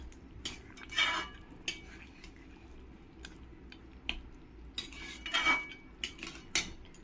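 A spoon scrapes and clinks against a pot while mutton curry is stirred after garam masala goes in. Wet squelching and metallic taps come in irregular bursts over a low steady hum, close by, with no talking.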